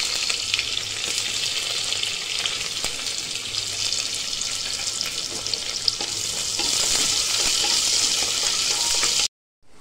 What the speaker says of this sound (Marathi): आता आपण कांदा आहे ना त्यात परतून घेणार आहोत